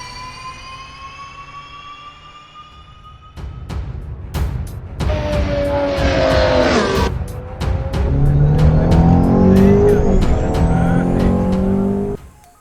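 A Formula Lithium 2019 electric race car in Assetto Corsa whines as it accelerates, its electric motor pitch sweeping up and down through gear-like surges, with tire squeal and rapid clicks, loud and continuous until it cuts off.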